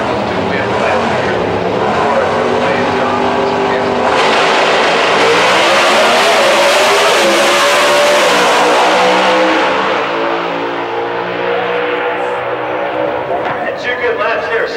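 Pro Stock drag racing cars roar at a drag strip in Houston, a loud sustained engine blare that swells and shifts in pitch as the cars run, with an announcer talking over it.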